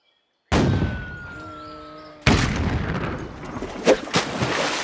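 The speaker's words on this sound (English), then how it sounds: "an 80mm tank-killing artillery cannon from World War II" A World War II 80mm tank-killing artillery cannon fires for sport shooting, a sudden loud blast followed by a long rumbling tail, then a second heavy boom with rolling echoes and scattered cracks.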